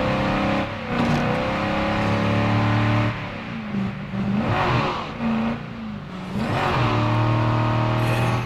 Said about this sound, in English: I do like this car.